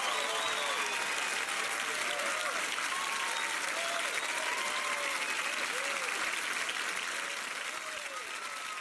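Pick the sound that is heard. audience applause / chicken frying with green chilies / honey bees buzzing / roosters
audience applause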